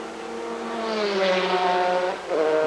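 A 2003 Speed GT race car at Sebring International Speedway spins on track, its engine note rising and falling with a brief dip and recovery, heard from a moderate distance with a broad rushing roar.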